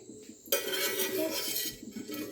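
A spoon scrapes steadily around a pan as coconut oil is spread for scrambled eggs: a brief quiet start, then about two seconds of close, continuous metallic scraping and rubbing with no voices.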